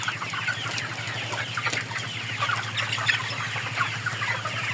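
Pullet chickens cluck continuously on a poultry farm, a dense chorus of overlapping hen calls with steady background hum.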